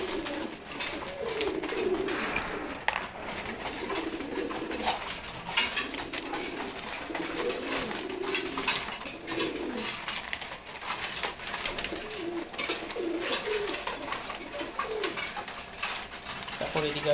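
Pigeons coo repeatedly while feeding in the morning, a close, continuous chorus of low rolling calls layered with soft pecking and occasional wing flutters.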